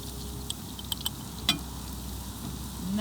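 A pike fillet fries in butter in a pan with a soft, steady sizzle, broken by a few small pops and clicks and a louder tap from a utensil midway.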